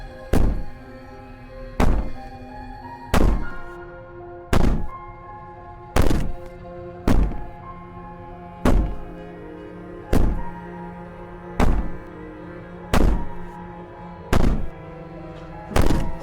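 Heavy, loud banging in the game Slay the Princess, a dozen evenly spaced booming thuds about every one and a half seconds over a low sustained ambient drone, with no speech.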